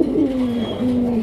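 A pigeon coos nearby, two low, throaty, drawn-out calls that stand alone without any talk.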